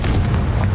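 A Confringo explosive spell bursts in Hogwarts Legacy: a short, close, booming blast with a rough low thump that fills the brief moment.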